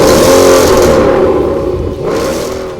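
A 2015 Ford Mustang GT with an aftermarket Gibson exhaust revs loudly up close, a strong engine tone that swells and fades, then comes a second, shorter blip of the throttle.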